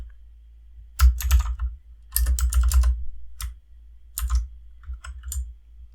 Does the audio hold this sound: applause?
no